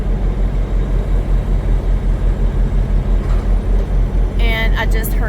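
A semi truck with a 53-foot trailer creeps forward in drive to lock the sliding tandems, its diesel engine a steady low rumble throughout, with a brief higher mechanical squeal near the end.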